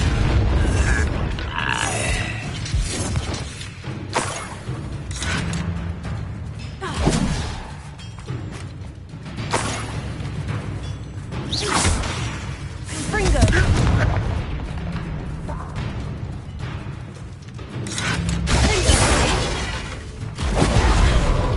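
Spell explosions from Bombarda, Confringo and Incendio erupt in Hogwarts Legacy combat as repeated loud booms and thuds over a dense, continuous battle mix with game music and voices.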